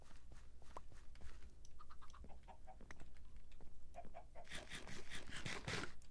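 Chickens clucking in the video game Minecraft, several short repeated clucks and squawks scattered over a few seconds, busier and louder toward the end, with no talking.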